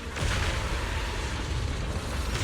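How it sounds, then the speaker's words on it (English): A steady barrage of explosions from a Zenless Zone Zero fight, with heavy low booms under a broad crackling rumble that holds loud from start to finish. "Move in during the gaps between explosions."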